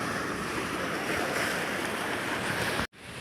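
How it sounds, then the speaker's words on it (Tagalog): Strong, steady roar of a swollen river current after a typhoon, carrying logs and timber, broad rushing noise filling the clip at close range before cutting out abruptly near the end. "Yun o, laka ng bunga ng ilog ngayon."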